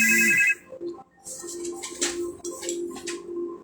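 A phone ringtone for an incoming call sounds loud for half a second, then stops, leaving quieter scattered clicks and chirpy background sounds.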